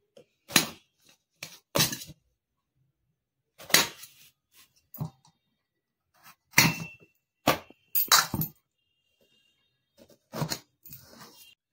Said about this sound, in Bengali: এবার আমি এটাকে পিস পিস করে কেটে নেবো।